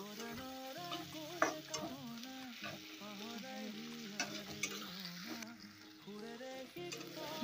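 Tomatoes frying in a pan with oil, a steady close sizzle broken by stirring clatters and scrapes, set against a busy background with other tones running through it.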